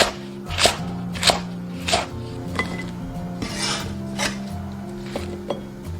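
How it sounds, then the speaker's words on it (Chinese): Knife chopping garlic stalks into short pieces on a board, a steady series of about nine crisp close cuts spaced roughly half a second apart, no talk. "蒜粒直刀切小段。"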